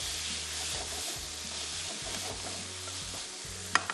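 Spiced vegetables are stirred in a frying karahi for a prawn karahi, with a soft continuous sizzle and repeated low scraping strokes of the spoon, fairly quiet, ending in a couple of sharp clinks.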